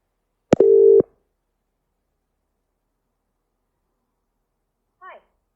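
A single short electronic tone sounds for a WhatsApp voice call to an AI voice agent, then silence, and a brief faint sound follows near the end.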